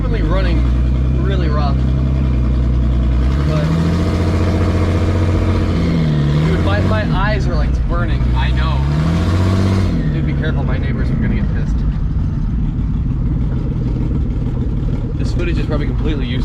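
A turbocharged BMW E36 engine running rough, a loud, close, uneven drone that rises and falls through several revs, with voices talking over it throughout.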